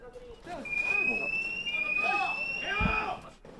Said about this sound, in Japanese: 地震警報器が鳴りました。